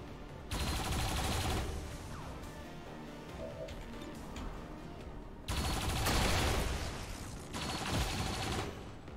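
Sustained bursts of video game gunfire from XCOM 2 as squad soldiers shoot at enemy turrets, loud volleys around two seconds apart with dense rattling fire and no talking.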